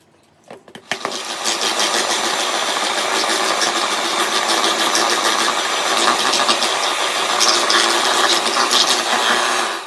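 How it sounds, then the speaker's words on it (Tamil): An electric hand mixer whirs steadily at high speed, beating butter and brown sugar for homemade butter biscuits, starting with a few short bursts before settling into a continuous loud drone. "அதுக்கப்புறம் வந்து பீட் பண்ண ஆரம்பிக்கலாம்."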